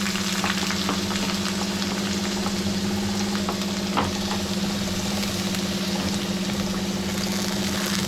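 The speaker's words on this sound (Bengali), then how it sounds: "আর এরপরে আমি এতে দিয়ে দিলাম পেঁয়াজ, কুচনো পেঁয়াজ আমি এতে দিয়ে দিলাম" Chopped onions frying in hot mustard oil in a pan, a steady close sizzling hiss with faint crackles and an occasional stir, no voices.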